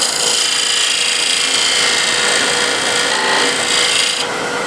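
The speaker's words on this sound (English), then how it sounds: "So just smooth this out with a big scraper" A big scraper is drawn across wood over and over to smooth the surface, giving a loud, continuous rasping scrape close at hand that ends abruptly.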